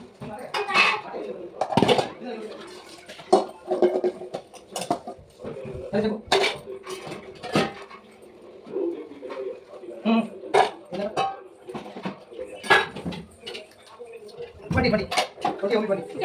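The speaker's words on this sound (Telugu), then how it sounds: "ప్లేట్ కడుగుతా." A plate being washed, with repeated clattering of dishes and clinking cutlery, splashing and scrubbing sounds close by, and people talking intermittently throughout.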